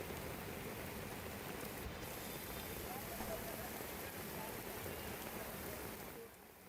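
Heavy monsoon rain pours down in Mumbai as a dense, steady hiss of drops on surfaces, loud and unbroken before easing slightly at the very end.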